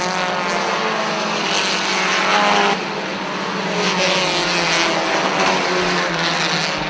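Race cars roar down the front stretch toward the white flag at a short-track race, a loud, continuous engine drone that swells and eases slightly as the pack passes, with no talk over it.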